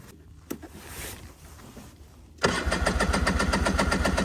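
A cold 1990 Ford Pilot engine is started with the choke: after a couple of seconds of cranking it catches and settles into a loud, steady, pulsing idle close by, with no talking.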